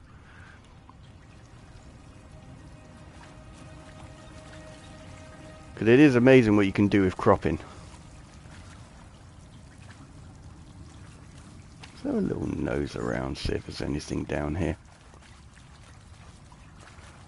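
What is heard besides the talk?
flowing water effect in the video game Horizon Zero Dawn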